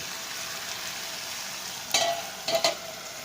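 Broad beans sabji with freshly ground coconut cooks in a pan, giving a steady soft sizzle, broken near the end by a few brief scrapes of a spoon stirring the mixture.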